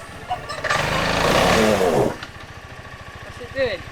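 Lawn mower running on a home lawn during a budget house renovation, a loud engine roar swelling for about two seconds and then dropping to a low chugging idle, with a brief voice near the end.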